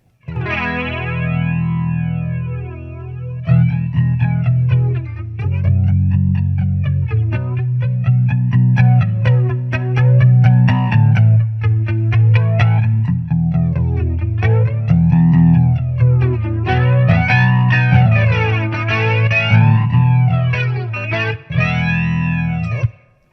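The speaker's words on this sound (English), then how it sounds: "I'll let you hear the EVH button on clean." A clean electric guitar plays through an MXR EVH Flanger pedal with its EVH button engaged. Chords and riffs carry a strong, sweeping jet-like whoosh that rises and falls repeatedly, loud and up close, with no talking.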